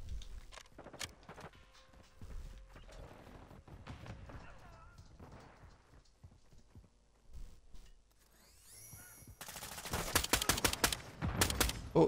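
Gunfire in Modern Warfare II crackles as scattered single shots and rapid bursts, with footsteps between. The shots grow denser and louder toward the end, and someone talks quietly underneath.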